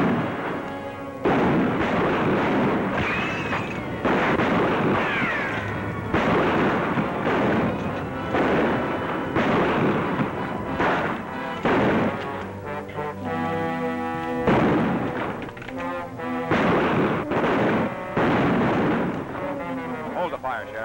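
Gunfire in a shootout from a 1950 film, loud repeated blasts echoing at irregular intervals, mixed with shouted dialogue and film score.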